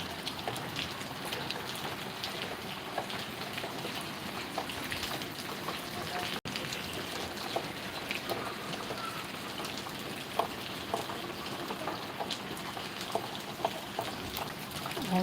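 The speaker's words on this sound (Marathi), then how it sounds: "पाऊस चालू भाऊ" Steady rain patters on a surface, a dense even hiss of drops continuing throughout at moderate distance.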